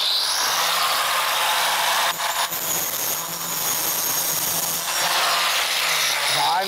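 A Kaindl multi-purpose saw blade cuts through a Plexiglas sheet, producing a loud, continuous high-pitched whine and rasp that dips briefly mid-cut before resuming at full intensity.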